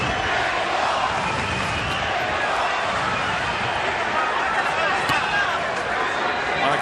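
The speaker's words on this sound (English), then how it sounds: "the crowd is really into it here at the MGM Grand Garden Arena" A boxing crowd roars at the MGM Grand Garden Arena, a dense, sustained wall of cheering and chatter filling the hall, loud and continuous throughout.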